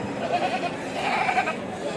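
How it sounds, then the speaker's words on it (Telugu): Male goats bleat repeatedly at the crowded Tuesday livestock market in Kadiri, their wavering calls coming close and loud in short overlapping bursts amid a busy background with faint voices. "25 మేకపోతులు ఉన్నాయి."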